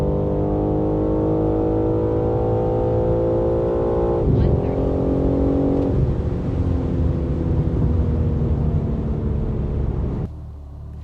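A BMW M3 xDrive under launch control accelerates down a quarter-mile run, its engine note rising loud and steady through the gears with a shift break around the middle, then cut off sharply near the end.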